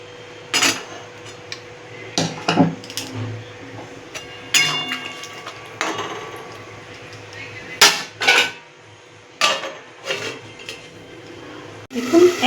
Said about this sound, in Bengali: এবার এটাকে আমি মিডিয়াম আঁচে রেখে ঢাকা দিয়ে দেবো।